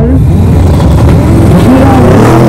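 A four-wheel-drive race car accelerates at a street race in Lunda, its engine a steady, loud, continuous roar with rising tones and crowd noise underneath.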